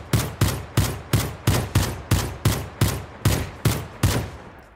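Rapid bursts of MAC-10 submachine gun fire from a Minecraft guns mod, about ten sharp evenly spaced shots in quick succession, loud and close with no talking.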